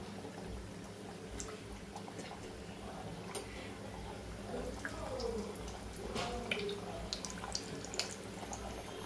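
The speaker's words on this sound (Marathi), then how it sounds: "तर तेल बघा आपलं तापलेलं आहे, आता आपण करंजी तळायला घेऊया।" Fresh-coconut-filled karanji pastries frying in hot oil make a soft, low bubbling fizz with scattered faint pops and crackles, quiet and steady throughout.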